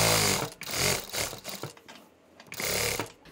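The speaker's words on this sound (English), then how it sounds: "Now we'll do a top stitch 1/4 inch in from the edge." A sewing machine top stitches a cloth face mask, a close, rapid mechanical whirring that runs in short bursts with a brief pause in the middle.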